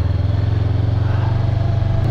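A Honda CB500X motorcycle engine thrums steadily and close by while riding a muddy off-road trail, a rhythmic, even pulse throughout.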